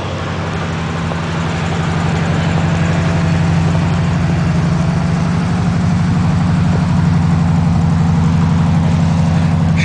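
A Chevelle engine idling right after a cold start, a loud, steady low rumble with an even rhythmic throb and no talking.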